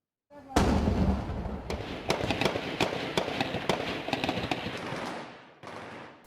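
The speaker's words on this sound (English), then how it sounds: "Explosions and gunshots heard at the Indian consulate in the Afghan city of Mazar-e-Sharif" Gunfire and explosions at the Indian consulate in Mazar-e-Sharif, Afghanistan: a loud opening blast followed by rapid irregular bursts of sharp cracks and pops, continuing steadily and then briefly cutting out.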